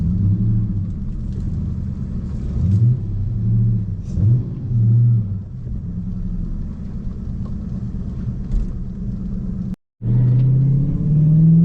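A supercharged manual Lexus GS400 engine idles with a deep rumble, then revs in short swells as the car backs off a lift and drives away, fairly loud and close, with a brief dropout near the end.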